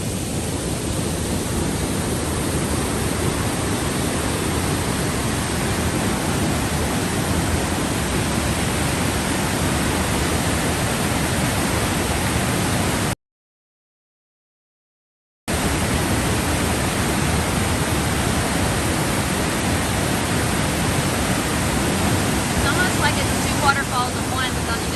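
Blackwater Falls in West Virginia in January: water pours off both sides of a jutting ledge in a steady, close, broadband roar that runs unbroken apart from one brief silent gap.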